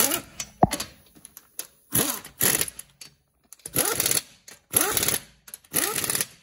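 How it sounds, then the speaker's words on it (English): Lug nuts on a Toyota Camry front wheel are run tight in a crossing pattern, heard as six or seven short, rattling power-tool bursts separated by brief pauses, close and clear with no talking. "Put our lug nuts on. We're going to tighten the crossing pattern."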